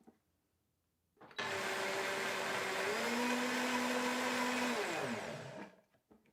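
OmniBlend blender running on macadamia butter, cacao powder and coconut sugar, starting abruptly after silence, a loud steady whir that drops in pitch as the mix thickens, then winding down and stopping.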